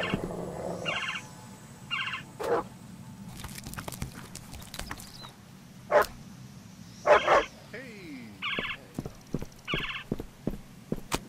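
A dog barks in the game Postal 4 in several short, fairly loud bursts spread across a busy game scene, mixed with other clattering game sounds and brief voices.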